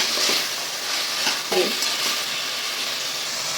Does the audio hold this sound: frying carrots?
yes